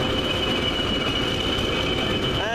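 Steady rumble of an English Electric diesel locomotive with 8SVT engine pulling away from Kidderminster on the Severn Valley Railway, a continuous near drone with a faint squeal rising at the very end.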